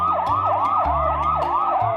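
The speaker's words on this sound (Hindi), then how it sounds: "अचानक तभी पुलिस की बोट का सायरन सुनाई देता है" A police boat siren wails in continuous rising and falling sweeps, loud and close, with a steady low engine hum underneath.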